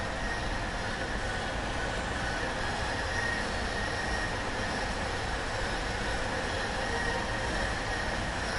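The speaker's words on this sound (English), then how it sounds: "A solo blast for Brian McCann as he hits it off the wall right under the train" Steady rumbling train sound over a stadium in MLB The Show 17, played after a solo home run off the wall beneath the train during a Dodgers versus Astros exhibition; a continuous, even roar with no talk.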